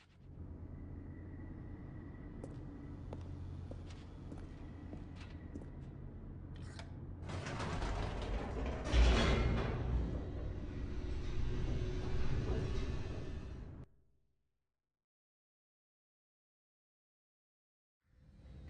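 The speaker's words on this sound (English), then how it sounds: "The elevator raced downward, plummeting towards an unknown fate." Elevator in The Stanley Parable descending, a steady low mechanical rumble and whir that swells louder midway with rattling, then cuts off abruptly into silence before a faint resumption at the end.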